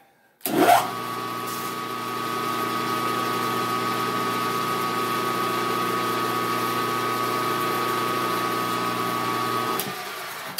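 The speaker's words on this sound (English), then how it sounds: "I'll use a center drill." A steady machine hum with a tonal whine starts abruptly and runs evenly for about nine seconds, then cuts off; a small lathe spinning close by, drilling with a center drill.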